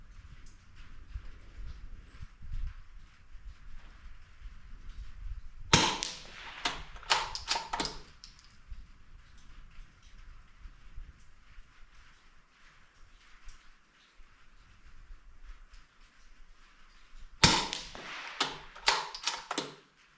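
Sharp gunshots from a Springfield 2020 Rimfire rifle ring out in two quick clusters of three or four cracks each, separated by a long stretch of quiet outdoor background.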